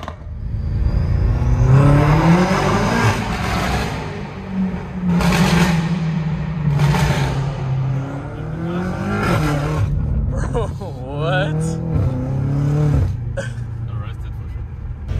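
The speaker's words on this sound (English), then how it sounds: "Rev it up a little bit, boy." A tuned BMW F90 M5 sedan at Homestead Miami Speedway drag racing, engine revving in several rising and falling bursts, loud and close, with people talking over and between the revs.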